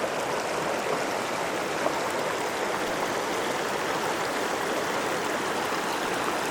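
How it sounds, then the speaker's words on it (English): Whitney Creek runs steadily near Guitar Lake where a trail crosses it, a close, continuous broadband rush of flowing water with no breaks and no voices. "Had a nice little afternoon break here near Guitar Lake, right where the trail crosses Whitney Creek."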